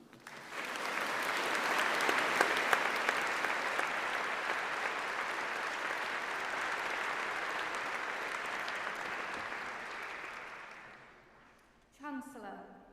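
A university graduation audience applauds, the dense clapping swelling quickly, holding steady for about ten seconds and then fading out, followed by a voice starting to speak at the end.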